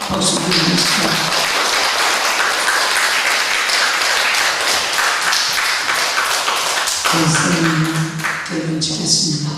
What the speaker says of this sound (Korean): 큰 박수 드리겠습니다